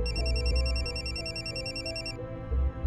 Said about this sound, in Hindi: फोन आ गया उसका, ये लो।